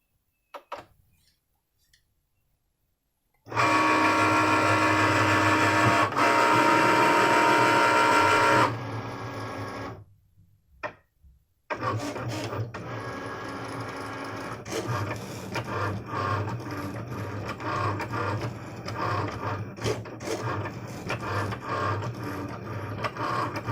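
A Cricut Maker cutting felt with its standard fine-point blade gives a loud, continuous mechanical whirring and scraping hum in two long stretches, split by brief pauses and clicks, with no voices.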